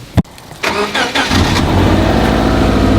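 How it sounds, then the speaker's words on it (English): A stock 2007 Subaru Legacy GT engine cranks with a sharp click and catches, then settles into a loud, steady cold-start idle with a rough low rumble. "It's a stock cold start on a 2007 Subaru Legacy GT."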